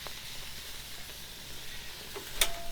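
Steak kebabs sizzle on a grill with a soft, steady frying hiss, faint and close, ending in a brief sharp clink, with no voices.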